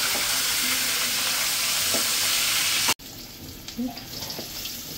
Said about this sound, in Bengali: সবগুলো মাছ ভাজা হয়ে গেছে।